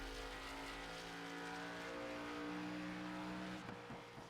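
An oval race car in the iRacing game revs hard while accelerating out of turn 4, its engine tone climbing steadily. The drone is continuous and moderately quiet, with no voices.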